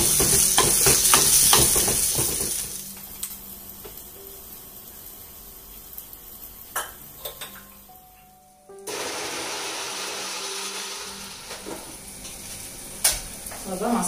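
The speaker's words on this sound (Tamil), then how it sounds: "வெங்காயம் சீக்கிரமாக வதங்கிடும்" Onions and green chilli with a little salt sauté in a pan, with a close sizzle and clattering stirring strokes, a brief quiet break partway through, then renewed frying and a sharp utensil knock.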